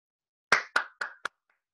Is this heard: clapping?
yes